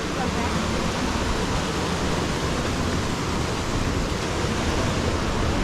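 River water rushes steadily near a rainforest trail by El Salado outside Medellín, a dense, loud, unbroken roar filling the whole clip with no letup.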